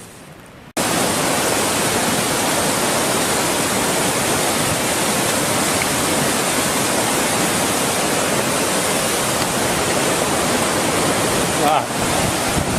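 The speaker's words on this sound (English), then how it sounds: "This is Milk Creek." Rushing water of Milk Creek along the Pacific Crest Trail in Washington, a loud, steady, close roar of flowing water that starts abruptly and holds unbroken to the end.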